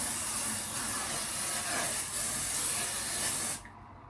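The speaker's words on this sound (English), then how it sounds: "So we're spraying." A steamer sprays steam onto shirts in a long, steady hiss that holds for several seconds and then cuts off abruptly.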